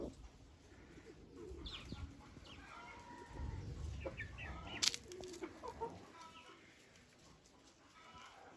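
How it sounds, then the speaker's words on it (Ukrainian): A Millefleur hen clucks and murmurs softly, close by, with other poultry chattering faintly in the background. "Це курочка мільфор."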